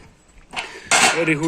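Metal cooking rings on the cast cooktop of a "Standard" potbelly wood stove are shifted and set in place, giving two sharp metallic clinks and a scraping rattle, close and fairly loud.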